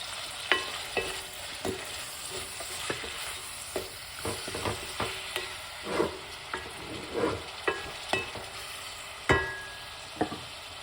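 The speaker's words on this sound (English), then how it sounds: "Let this fry up." Salted mackerel and callaloo fry in a pan with a steady sizzle, broken by frequent scraping stirs from a utensil, close and moderately loud.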